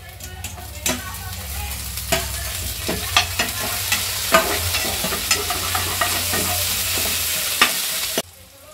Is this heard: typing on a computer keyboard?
no